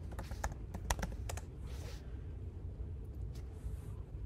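Keys clatter on a Mac computer keyboard while a terminal command is entered: a quick burst of light, close clicks, a brief pause, then a few more scattered taps, all quiet and alone.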